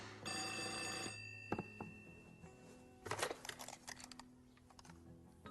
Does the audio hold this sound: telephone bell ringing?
yes